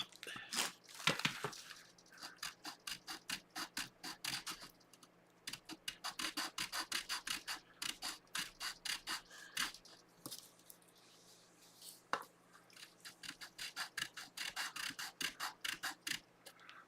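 Sandpaper rubbed back and forth against a guitar locking nut, a steady rasping scrape in fast repeated strokes, close and fairly quiet, with short pauses between bursts and no talking.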